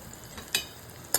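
Onions frying with turmeric and asafoetida get stirred in a pan, a faint steady sizzle under two quick scraping strokes of a spoon, close and quiet.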